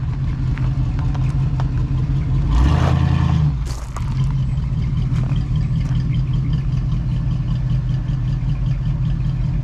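A 1970 Mustang's engine runs steadily at idle with a deep, rumbling low end, briefly swelling louder in a short rev before settling back to an even, close-up idle; no one speaks.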